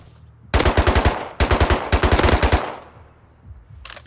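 AK rifle fire in a video game comes as three loud, close bursts of rapid automatic shots, each a tight string of cracks, followed by a decaying echo and a brief later shot.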